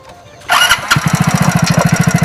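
A motorcycle engine kicks to life after a brief quiet moment, catching with a loud burst and settling into a close, rapid, chugging idle.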